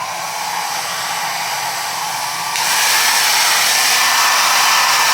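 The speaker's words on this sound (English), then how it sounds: "I'm going to dry it up real quick with my blow dryer" A handheld blow dryer blasts a steady, close airflow over the lace of a reverse ombre 613 body wave wig closure, its roar rising to a louder, brighter setting about halfway through and holding there with no talking.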